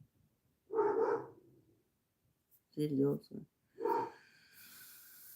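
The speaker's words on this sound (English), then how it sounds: "They've got the dogs in the background barking" Dogs barking in the background, a few short separate bursts spread across a few seconds, fairly faint and distant, with breathy noises and talk.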